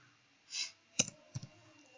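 A computer mouse gives a few sharp, close clicks while someone searches a website on Google: a soft swish comes first, then one click and a quick double click in an otherwise quiet room.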